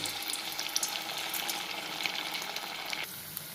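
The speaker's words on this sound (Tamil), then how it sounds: "வடை மாவை இது மாதிரி ஒரு எலுமிச்சம்பழம் அளவுக்கு எடுத்து எண்ணெயில் இப்படி போடணும்" Balls of urad dal vada batter sizzle and crackle steadily in hot oil, a close, continuous frying hiss that softens slightly near the end, with no talking.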